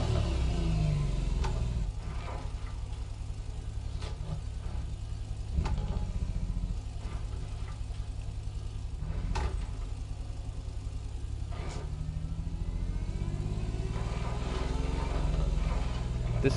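Car engine in an open-world game, a steady mid-pitched drone with rising revs and gear changes, continuous and fairly loud with occasional bumps and clicks over it.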